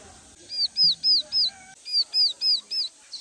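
A young duckling bought from a market gives loud, high, rising peeps close to the microphone: four calls, a short pause, then four more in an even rhythm.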